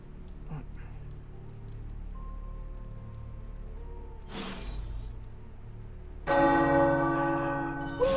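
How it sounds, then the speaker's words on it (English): Tower church bells ringing in the video game Midnight Suns, a bright resonant peal swelling in near the end after a quieter stretch with a soft swish, loud and sustained, with no talk. "The tower bells are ringing."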